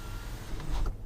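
The motorized roll shade of a 2018 Jeep Grand Cherokee Summit panoramic sunroof moves with a brief, steady whirring motor hum, heard close inside the cabin without any talking.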